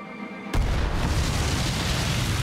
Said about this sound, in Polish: Uderza w minę.